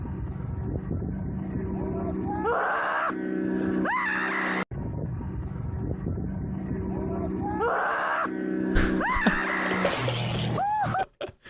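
A man screams in a played video clip about a chaotic train incident, with rising, strained cries that grow wilder toward the end over a steady background rumble and broadband noise.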